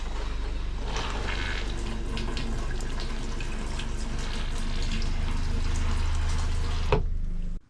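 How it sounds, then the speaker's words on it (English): A camper toilet on an E-Pro E20BHS trailer flushes during winterizing, a steady rush of running water that lasts several seconds and then cuts off abruptly, with no talking. "And we'll flush the toilet."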